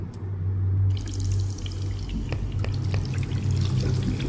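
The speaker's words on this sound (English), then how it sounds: "The water was rising." Water rushes and pours steadily in a video game as a level floods, a loud, continuous splashing wash with a few brief drips and clicks layered over it.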